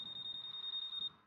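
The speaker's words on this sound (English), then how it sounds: "so this is alarm button" A Honda ADV160 scooter alarm sounds a rapid series of about a dozen short, high electronic beeps in quick succession, faint and close, then stops.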